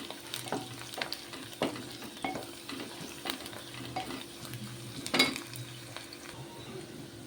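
Onions browning in a pan on low flame with curry leaves and coriander, stirred with a utensil; soft intermittent scrapes and light clinks over a quiet, steady sizzle, no talking.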